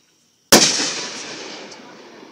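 A single loud firework bursting in a backyard fireworks display, a sharp crack after a brief silence followed by a long fading crackle and rumble.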